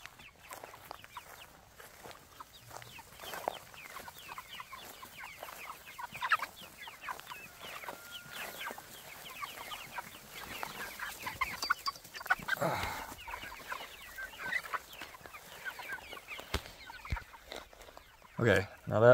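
A flock of farm chickens clucks and murmurs all around, close by and fairly soft, with scattered louder squawks and brief bursts of a person talking mixed in near the end.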